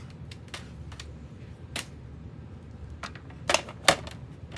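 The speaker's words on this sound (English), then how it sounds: "So now I can trim this down and then see if it needs further trimming down." A paper trimmer cutting orange cardstock for a stamped card gives scattered sharp clicks and snaps, quiet and close, with no voice.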